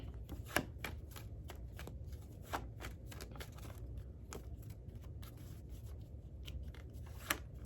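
Tarot cards being shuffled close up at low volume, with repeated riffling bursts and crisp flicks at an uneven pace and no talk.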